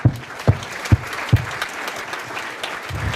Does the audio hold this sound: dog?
no